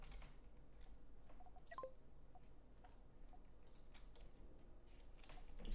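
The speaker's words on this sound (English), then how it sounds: "Excuse me, I'm typing." Faint, rapid clicking of computer keyboard keys comes through a soft background hiss, light and close with no talking.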